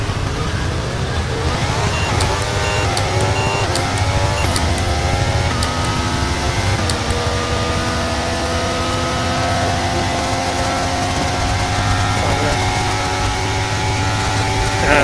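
Racing car engine in the F1 23 video game, a steady loud drone with rising and falling gear pitches as the car runs through a chicane, continuous throughout with no talk.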